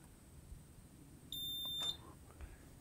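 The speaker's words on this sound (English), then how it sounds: "It'll beep, let you know it's working." A UPS connected to a 48V electric motorcycle battery gives a single clear, high-pitched beep lasting about half a second when it is switched on in a quiet garage.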